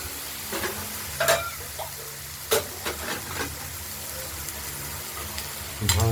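Bharali and thin-cut potato fry in a pan with a steady hiss and sizzle, broken by occasional scraping clinks of a spoon stirring. There is faint background talk.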